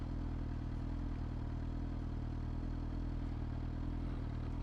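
A motorcycle engine runs steadily while being ridden on a city road, a continuous close droning rumble with no breaks and no talking.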